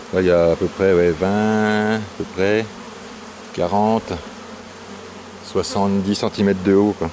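A large honeybee swarm hums steadily in the background while someone speaks at length in the foreground, his voice mostly covering the low, continuous buzz.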